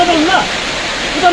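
Heavy rain pours down steadily in Kurseong, Darjeeling, during a hailstorm, a dense wash of falling water heard close with a few faint tonal sounds over it.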